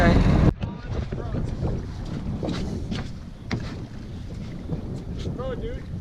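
A boat moves across open water off Miyako Island, a constant rush of wind and water noise with occasional splashes, while people talk faintly underneath.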